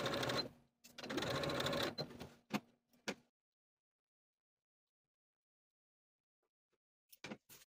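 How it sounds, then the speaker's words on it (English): A sewing machine runs in a few short bursts of rapid mechanical stitching, close by, followed by a long silence and a couple of faint clicks. "take these pieces to the sewing machine and sew from the outer edge to the point"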